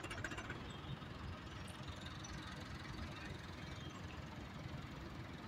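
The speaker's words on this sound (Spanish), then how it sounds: "estamos en una labor con un tractor 290" Tractor 290 engine running in a field on a sugar mill's farm work site, a steady, dense chugging drone held at a constant faint level throughout.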